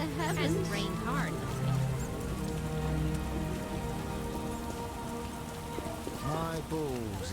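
Steady rain patters hard and continuously on a surface in The Witcher: Enhanced Edition, while voices talk over it and a tonal musical line plays underneath.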